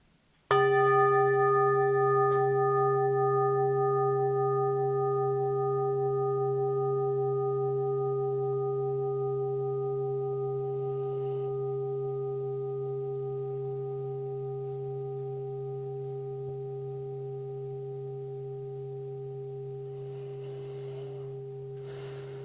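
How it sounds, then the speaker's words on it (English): A morning bell opening a worship service is struck once, its loud ringing tone with steady overtones sustaining and slowly fading over about twenty seconds with no talk. "Let us enter into the spirit of worship with the sounding of our morning bell."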